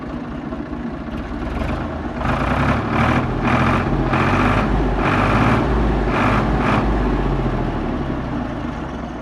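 A 1979 Ford 4600 tractor's diesel engine idles nearby, a loud, steady low chug with a regular knocking pulse throughout, no voices over it.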